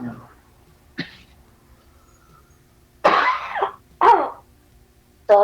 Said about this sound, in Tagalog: Sorry. Inuubo ako.